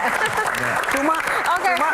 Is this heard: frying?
no